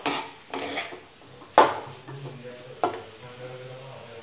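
Green coriander chutney is stirred in a pan over medium heat, with a few scraping, clattering strokes of a spoon against metal, the loudest two sharp knocks, spaced through otherwise quiet cooking.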